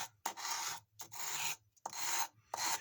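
A leather tool's bevel edge being worked with a file or rasp, producing four close, rhythmic rubbing strokes separated by short pauses, fairly quiet and alone.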